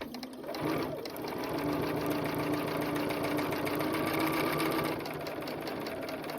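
A sewing machine whirs into motion and runs steadily with a fast mechanical chatter, close by and uninterrupted.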